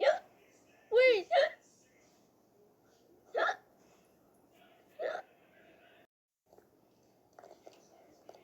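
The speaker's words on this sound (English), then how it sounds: "I can't believe I had the hiccups." A person hiccuping, with sharp hiccups spaced irregularly, one close pair, then two more, plus faint whispery breaths, fairly close and alone.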